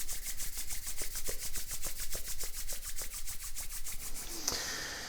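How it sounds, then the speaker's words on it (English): Hands rubbed briskly together in a quiet room during a meditation, a fast, even run of close dry swishing strokes that stops near the end. "Rub your hands together."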